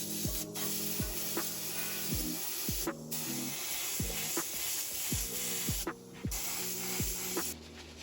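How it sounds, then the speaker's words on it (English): Airbrush spraying light orange paint onto a latex mask, a steady close hiss running throughout, broken by brief pauses, with repeated small tapping clicks layered over it. "Airbrushing light orange on the mask"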